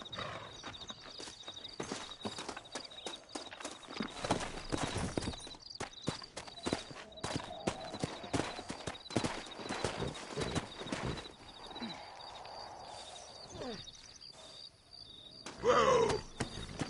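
Video game horse hooves clip-clop in a brisk, uneven rhythm over a steady synthetic hum, ending with a short whinny near the close, from Red Dead Redemption.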